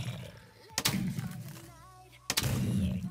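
Two sharp hunting rifle shots in the blocky survival game MineZ, one near the start and another about a second and a half later, each a loud broadband crack with a short tail over a quiet game background.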